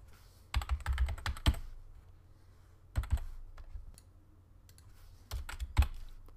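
Someone types a password on a computer keyboard while setting up a WordPress blog: three close, crisp bursts of rapid key clicks separated by quiet pauses, with no talking.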